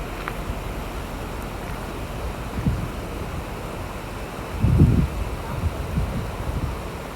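Boulder Creek flows through Boulder Canyon in Colorado as a steady rushing wash, mixed with wind buffeting the microphone in a few louder gusts.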